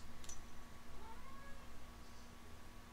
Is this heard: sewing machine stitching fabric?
no